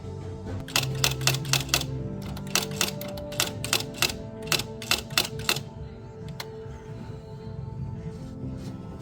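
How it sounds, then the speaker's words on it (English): A typewriter types the name onto a replica Blade Runner ID card, with rapid bursts of sharp, close key strikes in an uneven rhythm separated by short pauses and a carriage clunk, with no talking. "And then just as in 1982, we use a typewriter."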